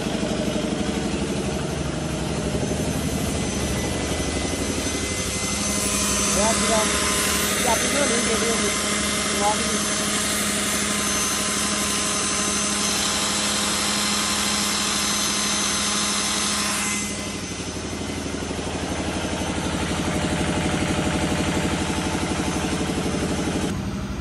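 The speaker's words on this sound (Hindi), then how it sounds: "जनरेटर की आवाज बहुत" Generator engine running close by, a steady loud mechanical drone with a rougher, brighter section in the middle before settling back to a constant hum, while people talk throughout.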